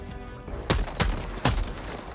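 Three heavy sniper rifle shots from the Diligence Counter Sniper in Helldivers 2, roughly evenly spaced and loud and close, with a sharp crack and booming tail over a steady low game ambience.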